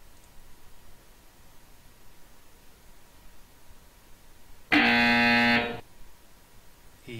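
A loud, harsh game-ending buzzer in a basketball video game blares for about a second after quiet background noise, then cuts off abruptly.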